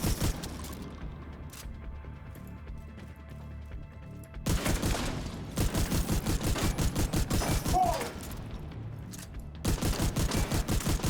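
Video game gunfire: rapid automatic bursts crackle in dense, evenly spaced volleys, separated by a quieter gap, loud and close with no voice over them.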